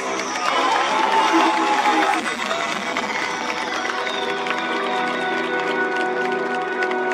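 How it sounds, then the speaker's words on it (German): A motorshow crowd claps and cheers loudly at first, then the noise settles into a sustained wash of crowd sound with engine or machine hum underneath. "Und wo ist der Applaus?"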